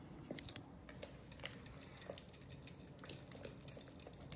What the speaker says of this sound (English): we're going to mix that together